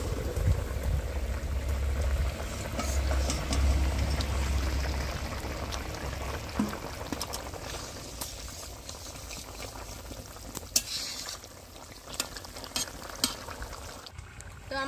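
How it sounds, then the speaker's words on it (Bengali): A pot of cauliflower, potato and rohu fish curry bubbles at a steady boil, a dense continuous simmering hiss close by. Occasional clinks and taps sound over it. "এখন আপাতত তরকারিটা ফুটে গেছে"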